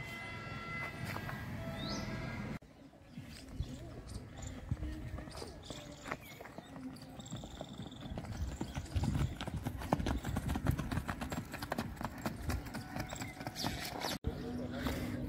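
A mare's hooves clip-clop at a steady walking rhythm through a morning ride, close and clear over a busy background, with voices talking at times.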